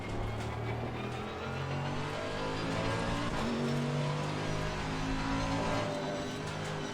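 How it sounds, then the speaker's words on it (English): Race car engine in Assetto Corsa Competizione at the Kyalami circuit, droning steadily and loud throughout, pitch climbing and dropping through gear changes with no talking. "So I'm going to go quiet, focus on the driving, so enjoy the lovely car sounds."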